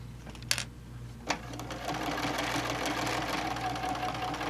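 A sewing machine stitches a 1/4 inch seam on a quilted bowl cozy, running at a steady close hum after a couple of soft clicks, without any talk.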